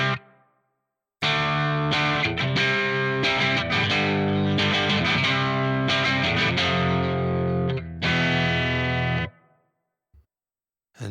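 A crunchy, distorted electric guitar plays through a Soldano SLO 100 Crunch amp model on an Ampero 2 Stomp, with reverb on and delay off. The riff is loud and close, with chords and single notes ringing for about eight seconds before fading to silence, and nobody speaks.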